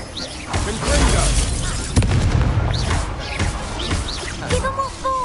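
A Confringo explosion spell in the Hogwarts Legacy video game, booming blasts during a busy magical duel, with other spell effects and bird-like chirps layered around them.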